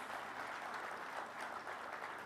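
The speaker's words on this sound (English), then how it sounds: "Let's give them a better round of applause." A conference audience at a devolution gathering claps in a sustained, even wash of applause that sounds distant and fairly faint, with no speech over it.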